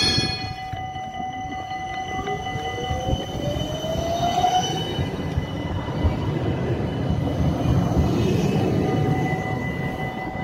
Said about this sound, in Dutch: Naast de tram.